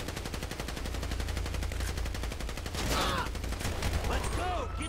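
Rapid automatic gunfire in the video game GTA 5, a fast, steady stream of loud shots running throughout, with a voice breaking in partway.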